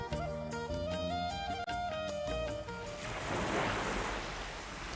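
Sea waves rise and fall around an island-like dargah shrine, a steady broad wash of surf that swells louder in the second half, with music playing over the first part.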